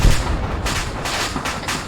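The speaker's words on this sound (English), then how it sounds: "All call signs hold, that is indirect fire." Indirect artillery fire lands in the military video game ArmA 3, a loud opening boom followed by a series of heavy, regularly spaced thuds and rumbles, with no talking.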